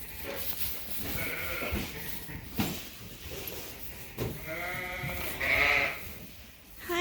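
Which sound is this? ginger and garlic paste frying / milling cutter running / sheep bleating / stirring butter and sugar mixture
sheep bleating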